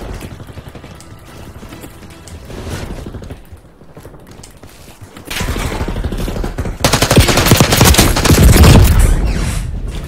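XM4 rifle fire in the Black Ops 6 video game beta, loud sustained automatic bursts in the second half following quieter game ambience and mechanical clatter.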